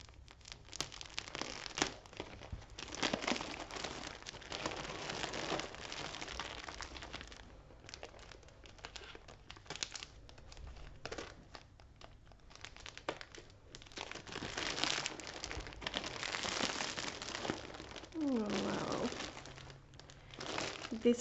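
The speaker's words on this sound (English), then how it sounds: "when I'm cutting the packing, I'm just afraid I will cut through yarn also." Plastic packaging around a package of Ice Yarn crystal yarn is cut open, with close, irregular crinkling and tearing that comes in bursts and quiet gaps.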